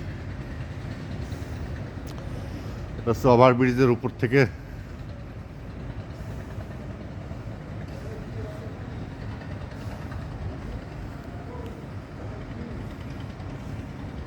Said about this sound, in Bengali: ঈশ্বরদী রেল স্টেশনে সীমান্ত এক্সপ্রেস ট্রেনে খুলনা থেকে আসছি